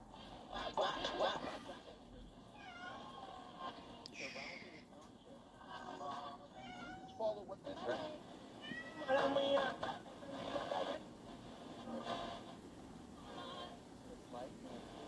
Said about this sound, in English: You probably hear my cat.